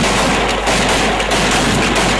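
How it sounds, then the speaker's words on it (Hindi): Gunfire from a pair of shotguns at a Pakistani wedding celebration, heard as a loud, dense, continuous crackle of shots and noise running without a break for a couple of seconds, with no talk over it. "अरे वाह शॉटगन तो कमाल कर रही है"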